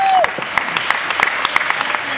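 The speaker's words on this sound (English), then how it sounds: "Give him a round of applause." An audience at a magic and mentalism stage show claps for a volunteer, a thin, loose spatter of hand claps with a few louder single smacks, lasting a couple of seconds with a brief tone at the start.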